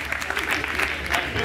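Audience applause at a comedy roast battle event, a steady dense wash of clapping filling the room for a second and a half, with some voices mixed in.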